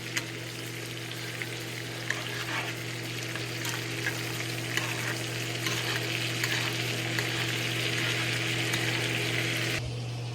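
Steak fries in a hot pan with a steady, close crackling sizzle over a constant low electrical hum, continuing for several seconds before cutting off abruptly.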